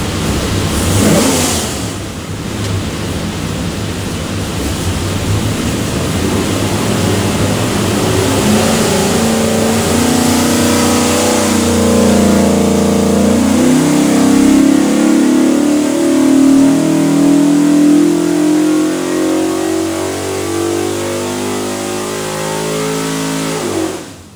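A 586 HP 427ci small block Ford engine for a '66 Mustang running on a dyno, a loud, rising rev pull that climbs steadily in pitch over many seconds before cutting off abruptly.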